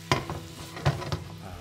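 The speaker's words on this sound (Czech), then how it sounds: "lehonce podlijeme připravenou wok zeleninu. Celý základ necháme 4 minuty jenom lehonce prohřát" Wok vegetables in a hot pan sizzle and crackle steadily, with a few louder stirring scrapes against the metal, in close-up and without talk.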